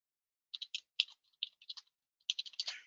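Quiet, close keystrokes on a computer keyboard as a username and password are entered, short irregular bursts of clicks with brief pauses between groups.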